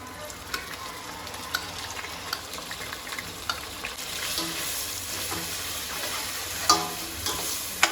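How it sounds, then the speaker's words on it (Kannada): Onions and green chillies frying in a pan until brown for a Muslim-style biryani, a steady, even sizzle with occasional soft clicks of stirring and a couple of louder knocks near the end, no voices. "ಇದು ಈರುಳ್ಳಿ ಬಂದು ಬ್ರೌನ್ ಕಲರ್ ಆಗಬೇಕು ಅಲ್ಲಿವರೆಗೂ ಫ್ರೈ ಮಾಡ್ಕೊಬೇಕು"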